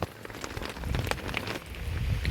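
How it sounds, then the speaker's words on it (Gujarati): Light rain patters steadily in Abhrampara, with scattered drops tapping nearby surfaces over a low rumbling background. "હવે વરસાદ થોડો ઘણો રહી ગયો છે"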